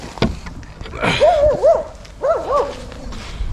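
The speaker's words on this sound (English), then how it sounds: "Oh, angry dog." An angry dog, heard outdoors along a trail, lets out a sharp bark followed by two drawn-out whining, yowling bursts, fairly close and loud.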